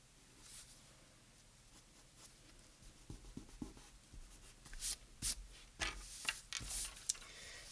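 A number 2 pencil drawing a skirt's leg on paper, giving soft scratchy strokes and quick taps that grow busier and louder toward the end, close up with no talking.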